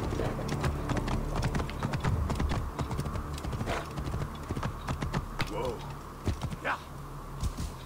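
Horse hooves clip-clop steadily at a gallop in the video game Assassin's Creed Origins, continuous and fairly close, over background game ambience.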